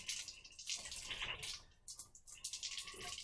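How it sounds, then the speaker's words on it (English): Water poured or splashed over sheets of paper in a biology lab demonstration, soft irregular splashing and trickling bursts, quiet and close. "So now we're going to get these papers wet and we're going to see what happens."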